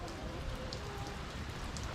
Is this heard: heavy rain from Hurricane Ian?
yes